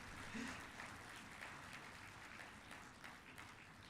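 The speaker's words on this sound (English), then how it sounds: "I think I need a clap." Audience applause at a valedictory session of a national mediation conference, steady moderate clapping from a crowd heard at some distance and fairly faint, lasting the whole four seconds.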